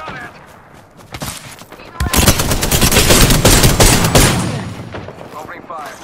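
Rapid automatic gunfire from a weapon in the Apex Legends battle royale game, sustained loud bursts that swell after a quieter start, with in-game voice lines mixed in.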